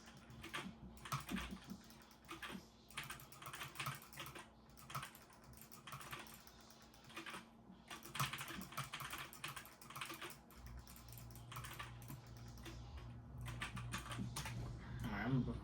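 Rapid clattering keystrokes on a computer keyboard come in bursts with short pauses, close and fairly quiet, with a low steady hum underneath.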